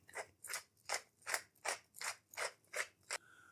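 Nine evenly spaced crunchy clicks from a pepper grinder twisting over pork chop marinade, close and fairly quiet, then a short soft rattle at the end.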